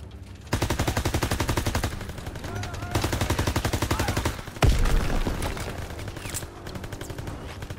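Bursts of rapid MG42 machine gun fire in the World War II shooter Call of Duty WW2, loud and close in long sustained strings, broken by a heavy boom, with a voice calling out faintly underneath.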